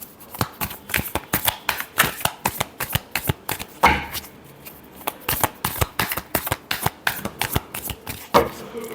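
Tarot cards shuffled in a steady run of crisp overhand slaps and flicks, close and fairly loud, with a couple of louder riffles along the way and no talking.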